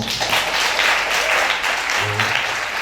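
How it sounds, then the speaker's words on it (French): Applause rings out from the audience at a piano competition semi-final, a thick, even burst of clapping with a faint voice and low tones underneath. "je voudrais qu'on applaudisse pour lui quand même."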